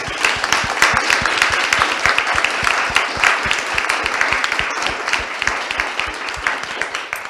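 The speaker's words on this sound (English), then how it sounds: "Please, a warm applause to our distinguished speakers" A conference audience applauds the speakers at a climate migration event, a steady run of clapping that stays at an even level for the whole stretch.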